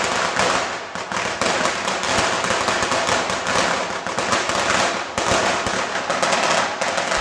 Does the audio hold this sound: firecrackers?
yes